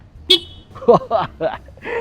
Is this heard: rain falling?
no